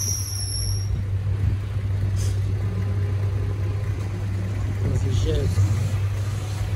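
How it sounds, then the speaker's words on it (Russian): A Zhiguli car rolls backward down a snowy hill in Moscow after a snowstorm, with a steady low engine rumble throughout and faint voices in the background. "Машина сдает назад, и все, с горки только съезжает."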